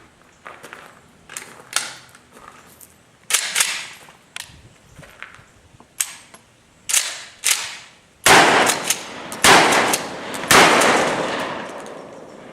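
A Mossberg 500 shotgun fitted with an Adaptive Tactical Venom Sidewinder fires Fiocchi recoil-reducing shells outdoors, about a dozen loud, sharp blasts at irregular intervals, each followed by a brief decaying echo, some coming in quick pairs.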